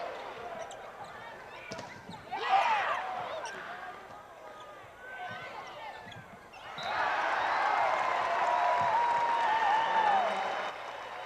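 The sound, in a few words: crowd applauding at volleyball match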